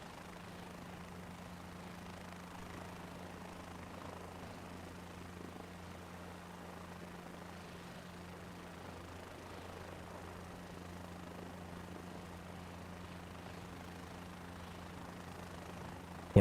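A helicopter in Microsoft Flight Simulator 2024 drones on steadily, its rotor and engine making a low, even hum with a faint hiss above, unbroken for the whole stretch and without talk.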